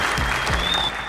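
Audience applause at a talk event in Swahili, a brief steady wash of clapping from a crowd, fairly loud and continuous throughout with no pauses.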